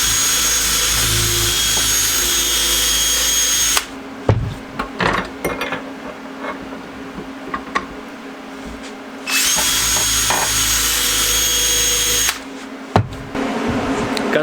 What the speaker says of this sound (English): I'm just finishing getting the rest of it with my wire wheel like this.